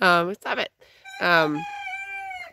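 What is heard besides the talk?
rooster crowing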